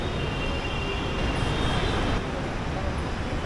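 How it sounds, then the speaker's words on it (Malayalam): A Mumbai Monorail train pulls into the station with a steady broad rumble and rushing hiss that swells slightly midway, heard from the platform at moderate distance. "അപ്പോൾ നമുക്ക് പോകാനുള്ള മോണോ റെയിൽ വണ്ടി ഇതാ വന്നു."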